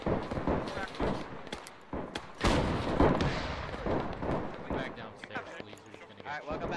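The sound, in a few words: WW1 field gun firing in video game Arma 3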